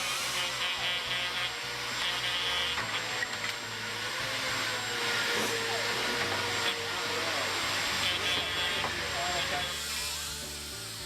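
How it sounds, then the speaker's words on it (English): A buffing pad on a power tool polishing a cast metal feather sculpture, a loud, continuous whirring hiss with shifting pitch as the pad works the surface, close by. "That's a buffing pad."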